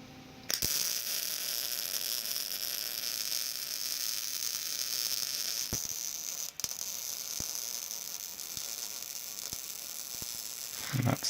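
Steady arc welding on steel for a homemade pivoting car tow dolly trailer, a continuous crackling sizzle running nearly eleven seconds with a few sharp clicks and pops near the end.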